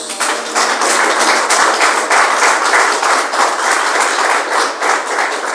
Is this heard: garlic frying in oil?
no